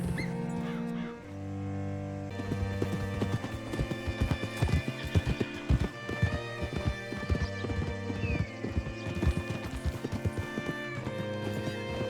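Horse hooves clip-clopping at a steady walking rhythm over a bed of music in Red Dead Redemption 2, with a horse whinny and faint background sounds.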